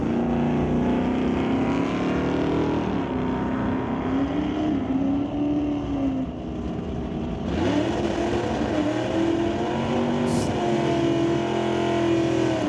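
Drag racing cars at an NHRA Summit ET Series final round, including a 1971 Chevrolet, with steady loud engine roar throughout and a sharp surge of revving near the middle as the cars power down the strip.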